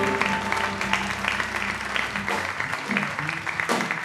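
A church congregation applauds for the Lord during a French-language worship service, a dense burst of clapping with a few louder claps near the end, mixed with voices throughout.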